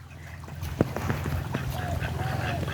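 Native country ducks quack and honk in scattered calls beside a village pond, over a low steady background hum.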